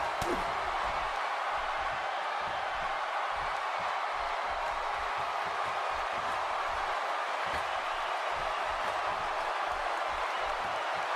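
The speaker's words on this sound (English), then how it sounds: "A lot of people applauding this superstar's bravery." A steady wash of crowd applause and cheering in a wrestling video game fills the space without pause, a dense roar of many hands and voices.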